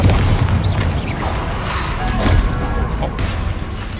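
In Hogwarts Legacy, the Bombarda blasting spell erupts in a heavy, rumbling boom amid continuous in-game combat noise, crashes and whooshes, loud and dense throughout with no clear pauses.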